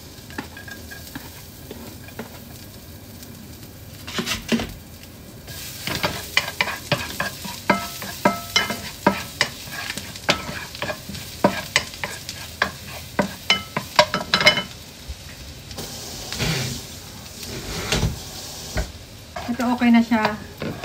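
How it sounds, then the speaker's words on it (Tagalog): Garlic sizzles in cooking oil in a pan while a utensil stirs and scrapes it in quick repeated strokes, a steady fry hiss underneath, close and fairly loud, with no talking. "Tinapon ko yung ibang mantika niya at ilagay na natin tong garlic."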